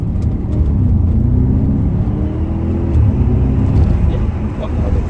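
A 2014 Audi RS5 coupé with the 4.2 V8 FSI engine and quattro drive rumbles steadily through its exhaust, a loud continuous low drone that stays unbroken throughout.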